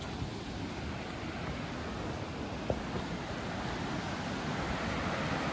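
A river rushes in a constant broadband roar, loud and unbroken, with a single faint click partway through.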